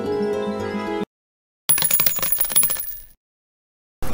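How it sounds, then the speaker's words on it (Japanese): A steel mixing ball rattles inside a bottle of Mr. Weathering Color paint as it is shaken, giving two short bursts of bright metallic clinking separated by silence. "中に攪拌用の鉄球が入っているので軽く振ってから使ってください"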